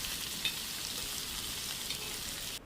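Cubed okra frying with onions and tempering spices in a pan gives off a soft, steady sizzle that runs without a break and is heard alone.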